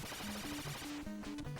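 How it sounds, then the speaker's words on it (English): Rapid shots fired in the NES game Gauntlet, a steady stream of chiptune blasts and tonal beeps layered over game music, loud and continuous throughout. "So he's just firing as fast as he can."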